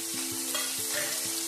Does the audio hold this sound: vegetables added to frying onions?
yes